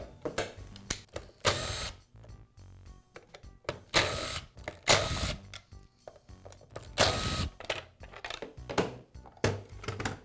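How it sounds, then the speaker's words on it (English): Pulley cover being removed from a Milwaukee band saw: a series of loud, close metallic clicks, clunks and rattles in irregular bursts with short pauses between, and no talking. "I'll begin by removing the pulley cover to make the tire easier to access."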